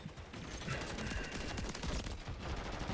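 Continuous rapid gunfire in Call of Duty MW3, dense and loud throughout, with overlapping shots and mechanical rattling forming a steady unbroken barrage.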